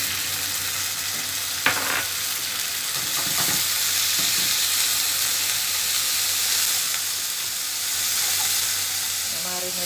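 Sliced beef frying in a pan, a steady close sizzle with occasional stirring clatter and scraping.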